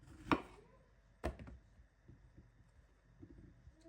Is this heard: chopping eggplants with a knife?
yes